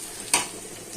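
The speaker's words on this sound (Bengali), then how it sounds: "করলা দিয়ে কুমড়ো দিয়ে ভাজা করছি," Bitter gourd and pumpkin fry in a pan, a soft continuous sizzle broken by one sharp scrape or stir near the start, close and brief.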